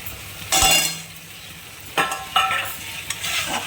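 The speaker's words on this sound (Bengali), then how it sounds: "ওটা খুব ভালো করে মিশিয়ে কষিয়ে নেব" Spice paste of cumin, coriander, salt and chilli powder stirred in hot oil for an egg and elephant-foot-yam korma, soft sizzling under scattered scrapes and clinks of a spoon against the pan.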